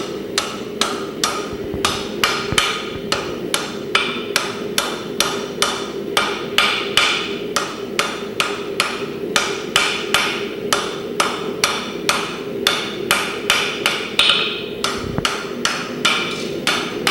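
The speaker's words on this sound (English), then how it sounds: "Take that piece out and hammer on it, Scott." Steady, rhythmic hammer blows on a hot steel blade ring out close and loud, one strike after another at an even pace with no talking.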